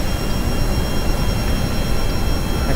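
Jet engines in an air-combat flight game give off a loud, steady broadband roar that holds constant with no talk over it.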